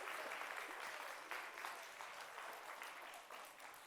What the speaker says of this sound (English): round of applause for Oliver